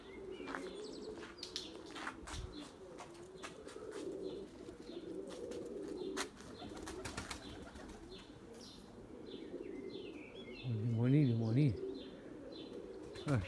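White pigeons in a loft coo low and repeatedly while wings flap in short bursts nearby, with someone talking quietly over the birds and a louder flurry of cooing near the end.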